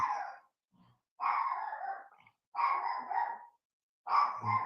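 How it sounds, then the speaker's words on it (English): A dog barks in four long, loud, close bouts, each separated by short silences and a brief low growl-like sound, with no talking. "Got the dog barking."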